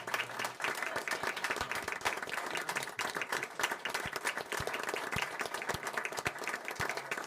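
Sustained audience applause fills a town council meeting room in honor of the police chief, with dense steady clapping and a few sharper close claps standing out, near and fairly loud throughout.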